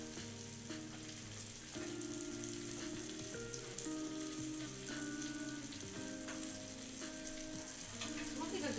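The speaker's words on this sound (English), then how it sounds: "Is this how you baste?" Glazed salmon sizzles and spits steadily in a buttered frying pan as it is basted, with soft scraping and clinking of a utensil against the pan, close and fairly quiet.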